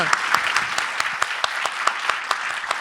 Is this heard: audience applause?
yes